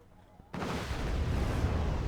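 Rocket launchers firing in the war strategy game Wargame Red Dragon, a sudden loud rumbling barrage that begins after a brief quiet moment and carries on as a dense roar.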